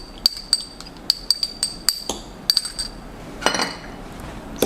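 A spoon clinks repeatedly against a glass while stirring latte mix with fresh milk and Kremdensada, bright rapid taps in bursts close by, ending in a softer swirl.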